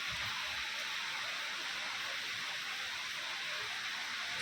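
Rain falls steadily outside a flat, a soft, even hiss that stays constant throughout with no talking.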